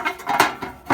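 A metal ash pan scrapes and clanks as it is pulled out of a cast iron stove-fireplace, producing a few close metallic knocks and rattles within a second.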